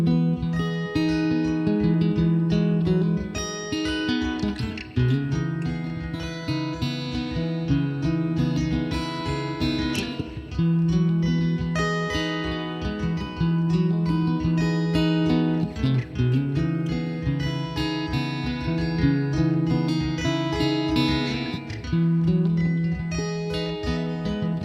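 Guitar plays harmony chords with passing notes, minor on the way down and major on the way up, in a steady, continuous, fairly loud strummed progression with moving inner notes and no talking.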